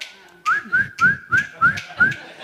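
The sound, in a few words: whistle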